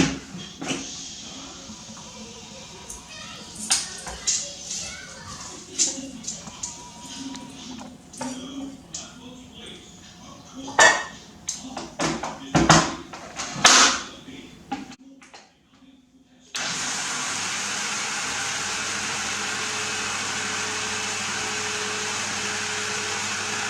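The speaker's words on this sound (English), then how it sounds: "Now we are going to grind the rice in both food processor and in the wet grinder." A Black & Decker FX1050 food processor grinding rice: uneven whirring and rattling bursts for about fifteen seconds, a brief near-silence, then a steady loud motor drone to the end.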